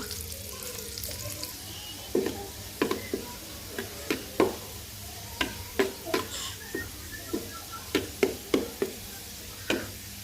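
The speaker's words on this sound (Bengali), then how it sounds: "পেঁয়াজ আর রসুন এখানে ভেজে নিব" Onion and garlic fry in hot oil for a dal tempering in a home kitchen, a steady soft sizzle punctuated by a dozen or so sharp clicks and taps of a spoon against the pan, close and moderately loud with no talking.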